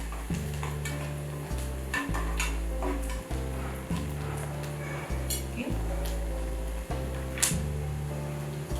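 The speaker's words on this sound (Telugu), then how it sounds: "పసుపు వేసి కలుపుతున్నాము" Turmeric is stirred into mutton keema in a pan, a soft scraping and stirring under a steady low hum, with faint clinks and a voice talking nearby.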